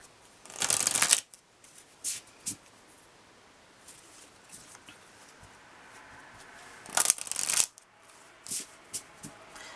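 Lenormand oracle cards are shuffled in two brisk riffling bursts, one near the start and one later, with light card handling and tapping in between, close up and without speech.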